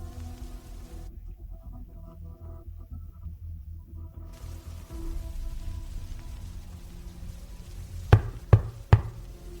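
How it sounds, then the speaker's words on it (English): Three sharp, loud bangs in quick succession, like fists pounding a door, follow several seconds of low droning hum. "Suddenly, you hear a banging sound coming from the door drawing"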